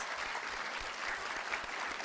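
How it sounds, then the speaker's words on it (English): A round of applause for students at a school board meeting, steady dense clapping from a crowd in a room, even and moderately distant with no voices over it. "let's give our students a round of applause"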